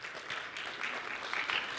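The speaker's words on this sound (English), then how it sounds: "Can you please give those parents a round of applause?" Brief applause from a church congregation for parents, a soft, diffuse patter of many hands heard at moderate distance with no talk.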